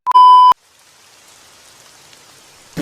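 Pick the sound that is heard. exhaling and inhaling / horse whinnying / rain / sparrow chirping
rain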